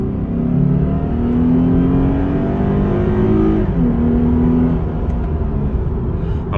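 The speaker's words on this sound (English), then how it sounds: "my favorite part about the Lexus is how they sound bouncing off the rev limiter" A Lexus IS 300 AWD F Sport engine bouncing off the rev limiter, loud and close, droning with small stuttering dips in pitch.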